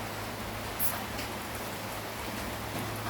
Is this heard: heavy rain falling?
yes